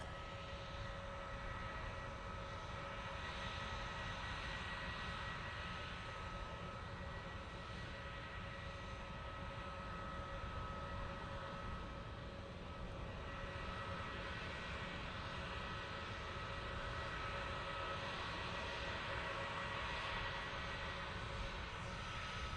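A Turkish Airlines jet airliner passes overhead near an airport, a steady broad engine roar that swells and holds throughout, moderately distant with no voices.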